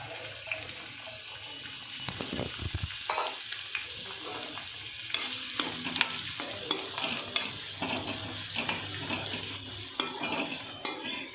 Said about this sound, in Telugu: ఇంకా ఎండుమిరపకాయలు కూడా వేగిపోయాయి కదా ఆనియన్స్ అయితే వేసేస్తున్నాను